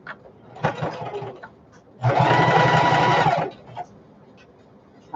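A sewing machine top stitches down the side of a fabric shoulder bag, running in one steady whirring burst of about a second and a half between quieter handling noises, close up and without speech.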